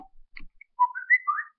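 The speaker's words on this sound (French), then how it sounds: "c'est un sifflement d'un téléphone" A short whistle signal from a phone, a few brief rising and falling tones in quick succession, clear and close against silence.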